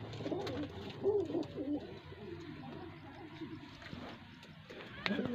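Soft, throaty coos of Karachi pigeons repeat in a low murmur over steady background noise, with a few faint clicks and stirrings nearby.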